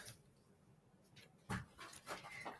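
A dog pants in short rhythmic breaths close to the microphone, growing louder partway through, with faint background room noise and no clear talk.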